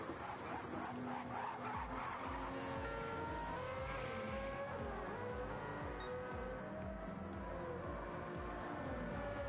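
Toyota Supra race car in a GT endurance racing video game, engine note rising and falling steadily through gear changes with tire skidding, loud and continuous with no talk.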